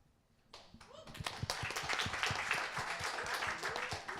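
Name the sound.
audience clapping after a response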